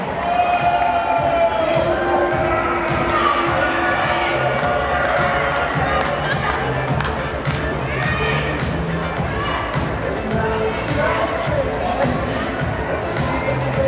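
A roller derby crowd cheers steadily through a bout between the Eights and the Maidens, with constant shouting, chatter and scattered whistles in a busy, echoing venue, holding an even loudness throughout.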